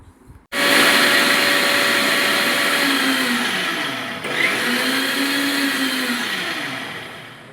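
A blender kicks on and runs loud and steady, blending cut fruit and vegetables into ABC juice with a high whirring roar whose pitch shifts slightly as the contents churn.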